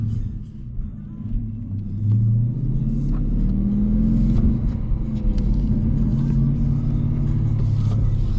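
A 2017-era Dodge Challenger R/T with a 5.7 liter Hemi V8 and six-speed manual, heard from inside while driving: a deep, steady engine rumble with a swelling rev, close and continuous, with a voice talking faintly over it.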